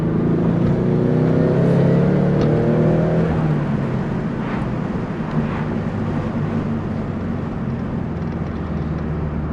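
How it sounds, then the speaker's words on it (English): Car engine with its old blow-off valve, running loud and steady with a rising then settling tone and brief airy hissing bursts over the continuous drone. "So here's some clips with the old blow-off valve"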